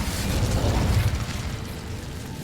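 Incendio fire spell cast in the video game Hogwarts Legacy, a loud whooshing burst of flame with a crackling low rumble that swells and then fades over about two seconds.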